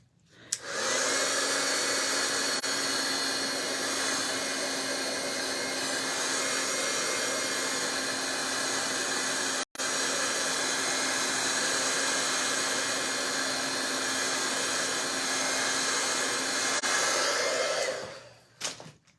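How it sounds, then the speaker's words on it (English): A heat tool blows over a watercolor-painted card to dry it, producing a loud, steady, close whirring roar that holds for nearly twenty seconds with one brief cut before it winds down. "this is where I would bring the heat tool"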